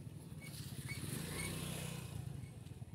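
A motorcycle labouring along a farm trail, its engine droning low and uneven with a pulsing strain, faint and somewhat distant, with no talk.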